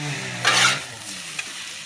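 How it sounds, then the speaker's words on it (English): A spatula stirs hibachi-style fried rice with oyster sauce in a hot pan, giving a short scraping, sizzling burst in the middle, then a quieter sizzle with one small clack near the end. "Stir so well mixed, so it will mix."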